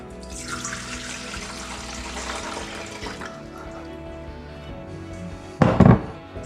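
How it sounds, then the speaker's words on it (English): Water pours into a bowl in a kitchen while sugar water for hummingbirds is being made, a close, steady splashing stream for about three seconds that fades out, followed by a short thud. "And you get your water and we'll just pour it into a bowl."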